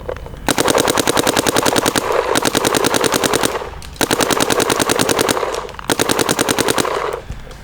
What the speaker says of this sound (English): I also feel like the 180R is shooting a little bit straighter than the DSR Pro